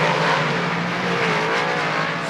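Race cars circle the track at Lernerville Speedway on opening night, a continuous loud engine roar from several cars at once, steady and somewhat distant with a rising and falling whine, and no voices.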